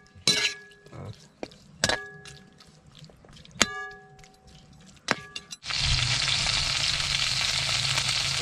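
Sharp metallic clinks of utensils against a pan and glassware sound as chicken is prepared for sautéing, then a loud, steady sizzle takes over once the meat hits the hot oil.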